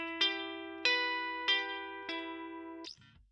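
Clean electric guitar through a Helix Native jazz-style Roland clean amp model, four ringing chords struck at a slow, even pace, each sustaining and fading before the next, ending with a brief scrape.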